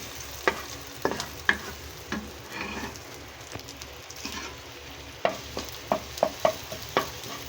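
Food being stirred in a hot frying pan, with a steady sizzle and a string of sharp utensil scrapes and knocks against the pan, loudest in a quick cluster near the end.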